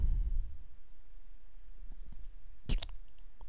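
A computer mouse gives a quick double click, close and crisp, in an otherwise quiet room with faint low background noise.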